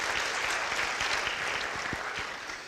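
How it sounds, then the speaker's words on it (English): Steady audience applause for a guest introduced at a motivational seminar, a dense, even clapping that carries through without speech. "Give her a round of applause right here,"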